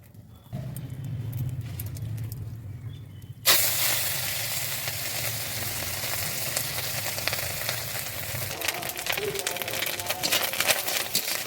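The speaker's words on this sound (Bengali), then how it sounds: "এবার ডিমটা আমি ভালো করে ভেজে নেব।" Fish roe hits hot oil in a wok over a wood-fired stove and breaks into a loud, continuous sizzle after a few seconds of quiet crackling fire and low hum.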